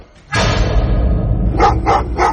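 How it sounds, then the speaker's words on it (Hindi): A dog barks at a grave in a horror story scene, one loud sharp bark followed by a sustained growling tone and then three quick, close barks. "वो कुत्ता रॉबर्ट को नहीं, बेन की कब्र को लगातार देखता हुआ भौंक रहा था।"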